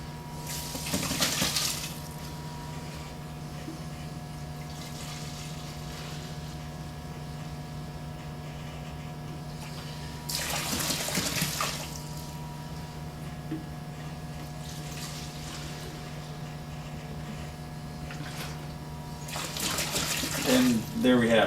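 Cool to warm water runs steadily from a tap into a bucket to mix a heavy-duty floor stripping solution, a constant close rushing flow with a few louder surges and a voice speaking over it.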